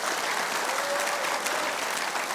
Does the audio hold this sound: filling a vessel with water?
no